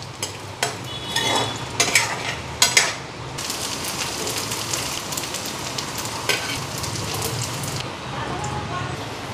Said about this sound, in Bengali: আলুগুলি দিয়ে দিই, জিরা ফোড়ন দিছি,